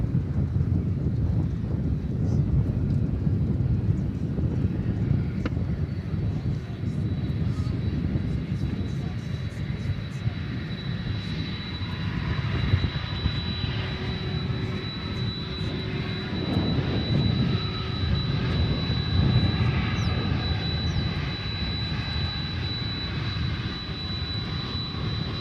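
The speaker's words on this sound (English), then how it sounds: "Here comes the 767, which just landed a few minutes ago." A Boeing 767 jet taxiing after landing at DFW Airport, a steady broad engine roar with wind noise throughout, distant rather than close.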